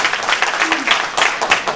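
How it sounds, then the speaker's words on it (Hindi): Dense, enthusiastic clapping from an indoor audience at a Dhanwantari event in Lucknow fills a short burst, with some voices underneath. "प्लीज जोरदार तालियां हो जाए"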